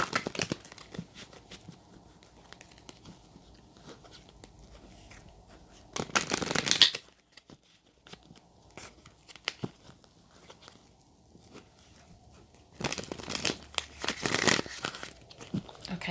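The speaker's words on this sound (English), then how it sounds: "Just need to give the cards another shuffle." Tarot cards are shuffled close up in two brisk riffling bursts several seconds apart, with quiet handling rustles and small taps in between.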